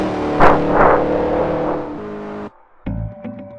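A Chevy race car engine lapping the Indianapolis oval in a racing video game, a loud sustained high-revving drone with a sudden cut to near silence, then the engine returning briefly.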